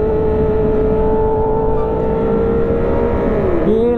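A Yamaha R6 sport motorcycle engine is held at loud, high, steady revs up close, dipping briefly and climbing again just before the end.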